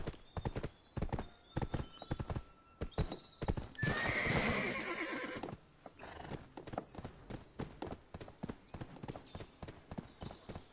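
Steady clip-clop of horse hooves in the video game Black Desert trots along in a quick, even rhythm, broken midway by a loud horse whinny, then the hoofbeats continue.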